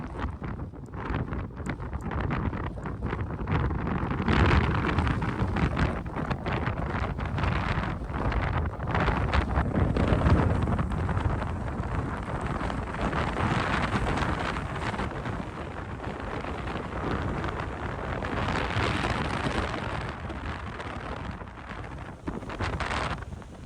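Strong wind on a winter mountain pass roars continuously and buffets the microphone, a dense, rushing noise that stays loud throughout with no voices.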